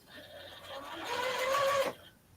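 A sewing machine runs a short burst of basting stitches at 2.5 stitch length, sewing an eighth-inch seam on a small cross-stitch pillow. The motor whirs steadily and close, builds slightly, then stops abruptly, with no talk.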